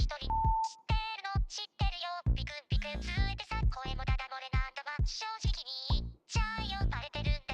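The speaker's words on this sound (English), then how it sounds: "So the pop and the buzzing." Pops and buzzing ear-candy effects work like percussion in a J-pop arrangement of a track, short bright clicks and buzzy tones stuttering rhythmically among chopped, pitched synth hits, with no talk.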